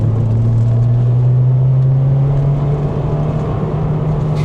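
JDM Honda Civic Type R engine droning steadily as the car drives through S-bends, a loud continuous cabin hum with a slight pitch shift as the revs ease.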